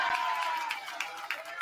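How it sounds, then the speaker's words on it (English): Spectators at a high school wrestling dual meet cheer and clap in a steady, loud roar, with sharper claps and shouts popping out of the crowd noise. "You heard the crowd."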